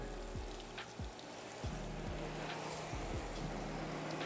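A hose sprays water to rinse soap off the sides of a ceramic-coated car, making a steady close hiss with faint low knocks throughout.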